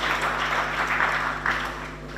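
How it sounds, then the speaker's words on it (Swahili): Audience applause at a prize-giving for the TANAPA Lugalo Open golf tournament, a short burst of steady clapping over a low hum. "Nakushukuru sana, tumpigie makofi."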